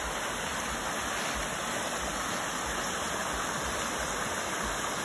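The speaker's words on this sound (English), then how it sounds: "I have finally made it to the river." A river rushes steadily through the Jamaican countryside in Portland, a loud, continuous broadband roar of flowing water close by with no talk.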